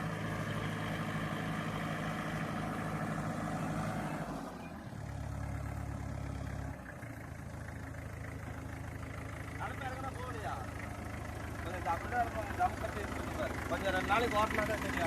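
A tractor engine runs while ploughing, a continuous low diesel drone with a brief change in pitch partway through, heard under people talking nearby.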